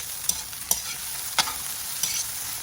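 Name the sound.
sautéing sardines in a pan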